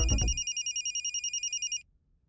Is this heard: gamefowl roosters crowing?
no